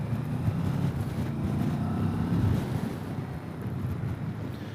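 A 2021 Kawasaki Versys 650 motorcycle is ridden along a road, its low engine drone steady beneath heavy wind rush buffeting the microphone, with no one talking.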